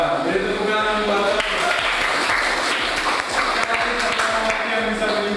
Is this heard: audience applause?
yes